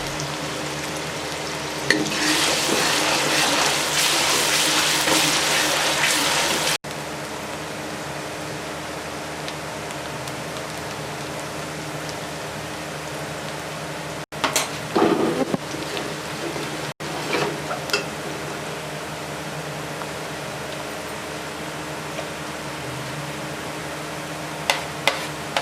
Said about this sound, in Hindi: प्याज को अच्छे तरीके से फ्राई कर लेंगे।